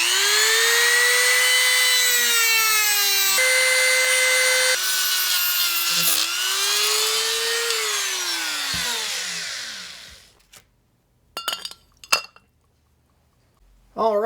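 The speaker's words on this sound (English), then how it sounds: "We'll hack it off with the Dremel." A Dremel rotary tool grinds through long screws with a loud, steady high-pitched whine that rises and falls in pitch as it bites, then winds down and stops, followed by a few brief knocks and clatters.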